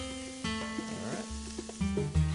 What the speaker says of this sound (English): You're just looking to saute it. You don't want it to get too brown.